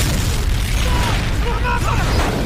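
A heavy explosion from an action film rolls out as a dense, sustained rumbling boom with crackling debris, part of a sniper attack on a passing car, loud and continuous throughout.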